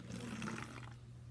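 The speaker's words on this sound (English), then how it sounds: "But I'm going to put the cold water in the bottle." Cold water is poured into a bottle as a brief, faint, splashy stream, with a steady low hum running beneath it.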